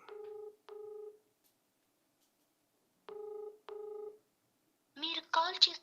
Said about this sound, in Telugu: Phone lift చేస్తలేడు.